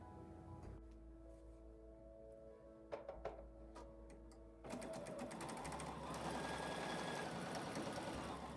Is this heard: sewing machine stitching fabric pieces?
yes